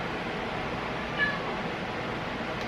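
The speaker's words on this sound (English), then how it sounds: "my roommate's cat is yelling at me to feed him" A male house cat meows to be fed, a single short cry rising briefly above a steady indoor background hiss, fairly faint and heard alone without talk.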